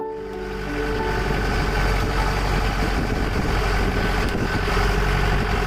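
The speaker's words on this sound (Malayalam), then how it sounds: "ഇവിടെ നിന്നും കോയിനിപ്പാറ എന്ന ഒരു മലയിലേക്ക് ജീപ്പിൽ ഒരു ഓഫ് റോഡ് റൈഡിംഗ് ആണ്" A jeep engine idling before an off-road ride up Koinippara hill in Kuttampuzha, Ernakulam, a loud, close, steady rumble that holds without a break and has no speech over it.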